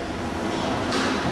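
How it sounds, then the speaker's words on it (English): Train running with a steady, dense rumble and hiss, a continuous loud ride noise with no distinct clacks. "This train's going to the mall."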